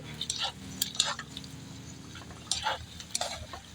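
Baguio pechay (Chinese cabbage) is stirred in a frying pan, with soft sizzling underneath and a few quick scraping, clinking strokes of the utensil, close and fairly quiet.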